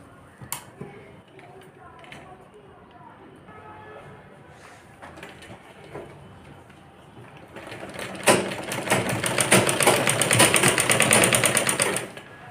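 Sewing machine stitching a girl's skirt, quiet handling noises at first, then a loud fast rhythmic run of needle clatter for the last few seconds.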